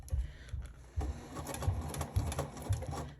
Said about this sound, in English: So I'm sewing downwards now.